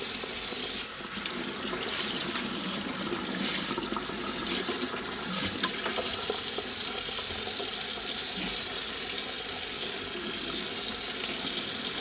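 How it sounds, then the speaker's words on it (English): Tepid water running from a tap into a container while refurbishing a Hoover Junior Dirtsearcher bag, a steady close hiss and splash that holds at even loudness throughout, with a few brief clunks early on. "now I'm going to put in some warm water, not hot, really just tepid."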